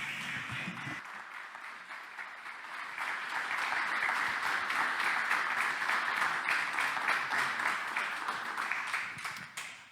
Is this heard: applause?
yes